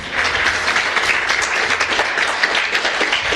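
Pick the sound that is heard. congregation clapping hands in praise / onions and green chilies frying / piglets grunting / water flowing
congregation clapping hands in praise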